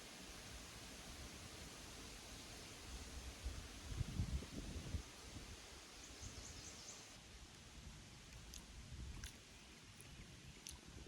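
Sycamore and birch leaves rustle in a steady, close wash of sound at a creek cove, with the rustle swelling briefly and a few faint bird chirps far off.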